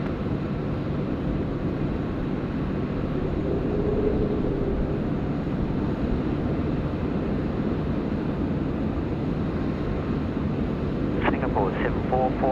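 A steady, broad airliner engine roar at Sydney Airport, sounding continuous and fairly close, with radio chatter and people talking over it.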